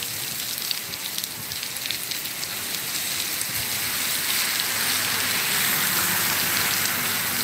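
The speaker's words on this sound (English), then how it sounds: "The rain's really, really coming down right now." Heavy rain from Tropical Storm Michael pours down steadily, a dense hiss of drops drumming on surfaces with no pauses, growing slightly louder toward the end.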